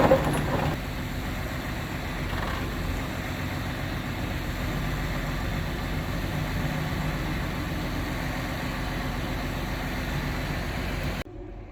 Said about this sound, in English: this truck is a 1993 International 9200. Has an N14 Cummins